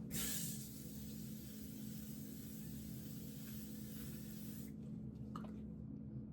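Aerosol makeup setting spray hisses in one continuous, close burst for about four and a half seconds, then cuts off, leaving a few faint clicks and handling sounds.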